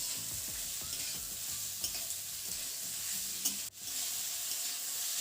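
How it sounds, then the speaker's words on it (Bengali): Chopped onions fry in mustard oil in a kadai, giving a continuous close sizzle with scraping stirs from a spatula and a brief clunk near the end. "তো পেঁয়াজটাকে বেশ কিছুক্ষণ ভেজে নিতে হবে"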